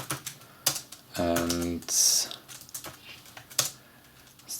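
Typing on a computer keyboard while setting up Arduino audio sampling code, with a few sharp separate keystrokes scattered around a brief spoken word, close and moderately loud.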